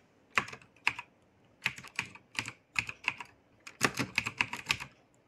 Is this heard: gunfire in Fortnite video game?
no